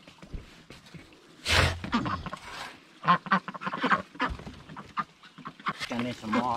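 Ducks quack in their den, a few loud, close nasal calls scattered over several seconds and mixed with a person talking.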